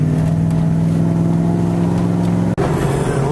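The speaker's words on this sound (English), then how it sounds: "Bit of traffic already." Steady afternoon road traffic heard from inside a vehicle, a constant low engine hum with broad road rumble throughout, briefly dropping out for an instant near the end.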